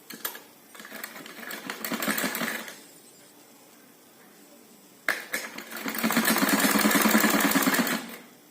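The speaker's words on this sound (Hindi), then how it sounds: "सेम इसी तरह 2-2 इंच के गैप से इसके ऊपर सिलाई लगाते जाएंगे।" Sewing machine stitching gota patti trim onto fabric for a neck design, running in two loud, steady bursts of rapid mechanical whirring separated by a quiet pause, heard up close.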